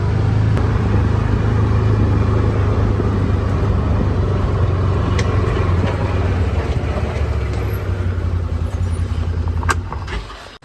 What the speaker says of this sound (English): Now let's go see if the dump truck will start.